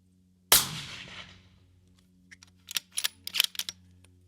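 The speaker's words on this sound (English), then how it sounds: "this is the first round through this suppressor" One suppressed precision rifle shot, the first round through the suppressor, cracks sharply and decays over about a second. A string of quick, light mechanical clicks and rattles follows.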